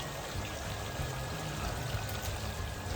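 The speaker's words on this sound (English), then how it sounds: "The water fountain is working, you know." Garden water fountain running in a backyard, a continuous close trickling and pouring of water at moderate level, steady throughout with no voices.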